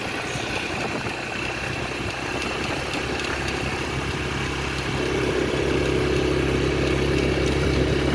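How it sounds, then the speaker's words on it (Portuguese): A motorcycle engine runs steadily while riding along a rural road in Piauí, a continuous mid-low drone with wind rush that grows slightly louder toward the end, with no talking. "filmando e gravando e pilotando a moto"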